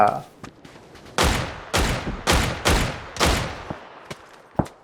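Gunfire in PUBG: a run of five or six loud, evenly spaced shots with short echoing tails, plus a few fainter distant pops, while someone speaks over the shooting.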